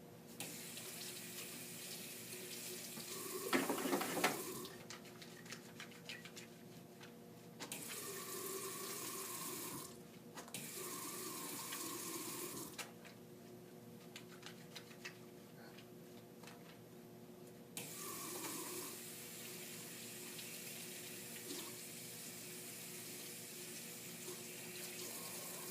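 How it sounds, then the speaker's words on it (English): A faucet runs during handwashing before an IV push procedure, giving a steady close hiss of water that starts and stops several times, with splashing as hands move under the stream and no talking. "I am ready to wash my hands."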